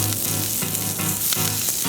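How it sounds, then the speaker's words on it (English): Greens for pad see ew sizzle and crackle on a hot griddle, a dense, steady frying hiss up close with small pops and faint stirring scrapes. "Now that our greens are on sizzling away,"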